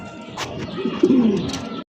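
Pigeons kept among fancy breeds at a pigeon sale give a short, soft, low coo that swells briefly, heard close by with faint background noise and no talk.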